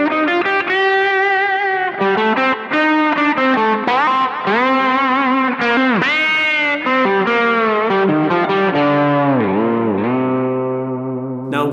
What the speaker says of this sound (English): Now let's check out what this pedal sounds like with distortion.